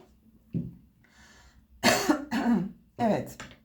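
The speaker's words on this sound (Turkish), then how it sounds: "biraz öksürük geldi arkadaşlar" A few short, harsh coughs sound close by, separated by brief pauses, with a faint tonal hum in between.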